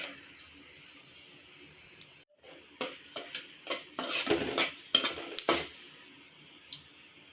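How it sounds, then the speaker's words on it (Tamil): Fennel seeds, star anise, stone flower, mace, cinnamon and cloves frying in hot oil for a chicken gravy, with a steady crackling sizzle broken by repeated close clinks and scrapes of a spoon stirring the pan. "சோம்பு நல்லா பொரிஞ்சிருச்சு"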